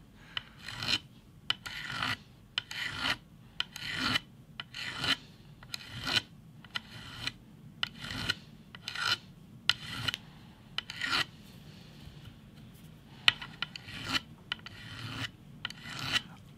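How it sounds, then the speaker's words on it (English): A small flat file rounds the corner of a bass guitar fret, rasping in short, steady strokes at roughly half-second intervals, close and moderately loud, with no talking. "this small file I've got here with a flat edge. I'm just going to very carefully try and round the corner"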